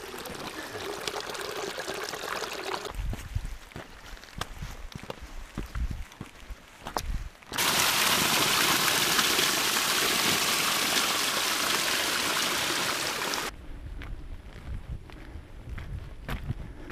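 Rainwater rushing down a footpath that has turned into a stream with small waterfalls, steady close gushing and trickling broken by a louder, fuller torrent in the middle stretch, with footsteps now and then.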